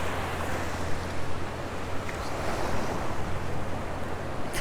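Ocean surf on a Sanibel beach rolls in steadily, a broad washing roar of breaking waves close by, with some wind buffeting the microphone and no talking.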